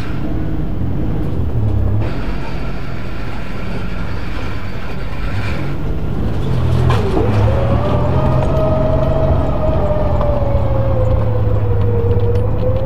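VR V6 turbo Holden Commodore on a test drive after a new diff gear install, running Penrite 80W140 synthetic gear oil: steady low engine and road rumble from inside the car, with a rising whine that holds through the second half.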